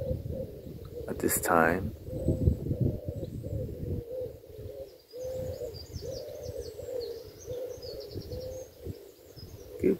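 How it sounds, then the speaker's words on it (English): An owl hoots repeatedly with soft, low calls, and a brief higher bird call rises early on; a person speaks quietly over the hooting. "I'm aware of the sounds of the birds"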